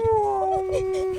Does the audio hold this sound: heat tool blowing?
no